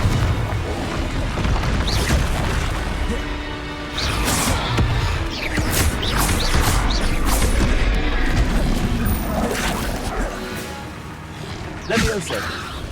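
Confringo spell explosions in Hogwarts Legacy land as repeated booming blasts and crashes, several in quick succession, with whooshes and clattering debris. A voice speaks over the action at times.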